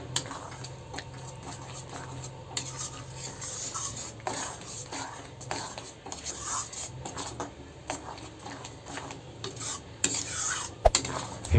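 Boiled, ground spinach paste is stirred into a rohu fish curry masala in a pot, with a spoon scraping and clinking against the metal in an uneven rhythm, close and moderately quiet.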